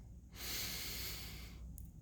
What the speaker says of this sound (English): Why don't we take a deep breath now? Breathe in through your nose